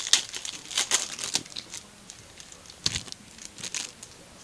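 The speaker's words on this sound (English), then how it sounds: "Let's open up all the cards and then go through them." Topps The Walking Dead trading card pack wrappers being torn open, sharp close crinkling and tearing bursts in irregular clusters with brief pauses, fairly loud against a quiet room.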